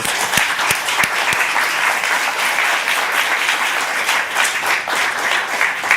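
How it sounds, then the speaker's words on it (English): Audience applause fills a climate and development finance conference session, steady dense clapping throughout with a few sharper individual claps near the start, no voices over it. "A big round of applause."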